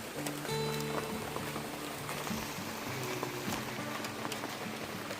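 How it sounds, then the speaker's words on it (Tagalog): Steady heavy rain hisses across the whole clip in the mountains, a dense wash of drops with low tonal hums and scattered sharper patters close by. "Inabot po kami ng malakas na ulan dito"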